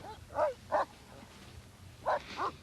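A dog barks four times in two pairs, moderately close and distinct against a quiet room background.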